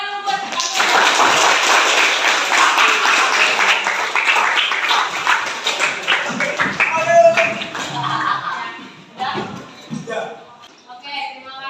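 A classroom breaks into applause, a dense burst of many hands clapping that fades into scattered claps, with voices speaking near the end.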